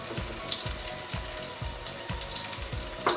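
Garlic sizzling in a hot sauté pan, a steady crackling fry with rhythmic low scraping pulses of stirring throughout, close and alone without speech.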